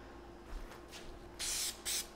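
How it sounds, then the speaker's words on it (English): Spray paint hissing from an aerosol can onto a small rusty light fixture cage, with two short, close bursts in a quiet room. "I think I'll spray this first, this little cage here."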